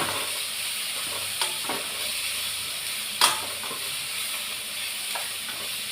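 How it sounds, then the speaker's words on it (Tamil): Broad beans are stir-fried with tomato and garlic in a pan. A constant sizzle hisses throughout, broken by a few soft clinks and one sharper scrape of the spatula, with no voices. "கட் பண்ணி வச்சுருந்த அவரைக்காய் போட்டுக்கிறேன். இதை நல்லா பிரட்டிக்கிடலாம்."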